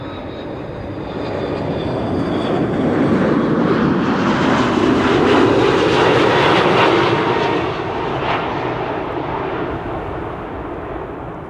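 A fixed-wing airliner landing at Amsterdam Schiphol Airport on a frosty, sunny day, its engine roar swelling and fading as it passes, with a broad rushing drone and no voices.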